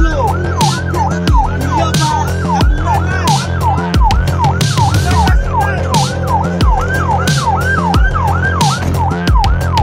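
An ambulance siren wails in a steady repeating rise-and-fall pattern, loud and close, with rhythmic percussive knocks and a low road rumble underneath throughout.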